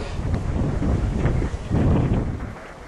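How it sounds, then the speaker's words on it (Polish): Strong wind gusts by the water while fishing roar and buffet the microphone continuously, rising and falling in waves without letting up. "Wiatr trochę utrudnia pobyt nad wodą"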